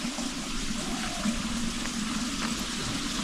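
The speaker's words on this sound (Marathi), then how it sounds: "इथे पाण्याचा आवाज येतोय बघा किती" A stream runs beside rice paddy fields in the monsoon countryside, its water rushing in a steady, full-bodied flow that fills the whole stretch without pause and with no voices.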